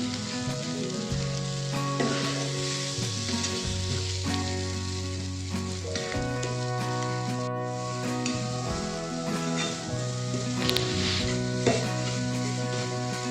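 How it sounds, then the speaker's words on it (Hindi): Egg and onion masala sizzles and fries in a pan while it is stirred and mashed, a steady loud crackling hiss running throughout with no talk. "इस तरीके से इसको मिक्स करते जाएं। अंडे मसाले में बिल्कुल अच्छी तरह मैश हो जाए।"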